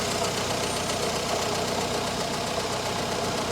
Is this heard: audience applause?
no